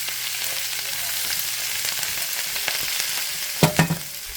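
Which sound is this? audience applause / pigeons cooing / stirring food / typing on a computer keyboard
stirring food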